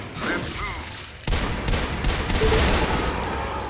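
Rapid gunfire in Natural Selection 2 as a player shoots at scouts, a dense, loud, continuous burst of shots starting abruptly after a brief quieter stretch and running steadily to the end.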